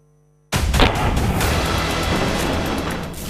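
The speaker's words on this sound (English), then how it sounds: "Gunfire, explosions, bombardments, incessant rain of missiles and rockets." After a brief silence, a dense roar of distant gunfire and explosions from shelling in Ukraine rumbles on continuously, with sharper cracks standing out early.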